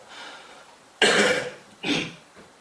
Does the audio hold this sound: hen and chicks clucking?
no